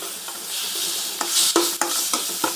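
Onion and garlic sizzle steadily in a hot pan, with a utensil stirring and scraping through them in several distinct strokes, close and fairly loud.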